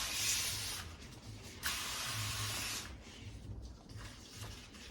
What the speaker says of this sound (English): I think the spray gun is definitely the way to go because it's got like a jetness about it